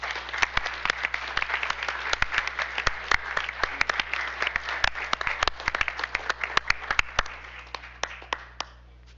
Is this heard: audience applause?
yes